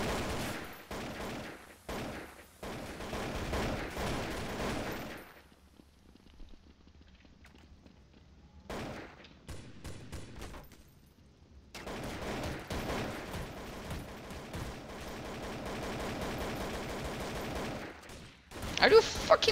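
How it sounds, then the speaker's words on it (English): Several shooters fire at once in Counter-Strike: Source, dense overlapping bursts of gunfire and footsteps; a quiet pause falls midway, then heavy firing resumes and swells loudly near the end. "Three people shooting at once."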